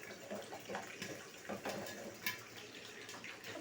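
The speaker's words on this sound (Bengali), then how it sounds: "দেখুন ডিম ছুটতেছে কেমন, প্রচুর সেটা ছিটতেছে তেল" Eggs frying in hot oil, with fierce crackling and spattering in a dense hiss marked by irregular pops, fairly faint and close, with no talk.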